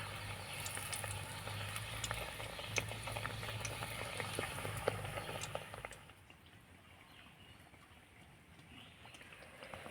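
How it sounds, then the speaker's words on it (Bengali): Kamranga pitha frying in lightly heated oil, a dense steady sizzle with crackling pops that drops to a quieter, softer bubbling partway through; no voices. "আর একেভাবে করে কাবরাঙ্গা পিঠেগুলো ভেজে নেবো যখন তেলের মধ্যে ছাড়বেন"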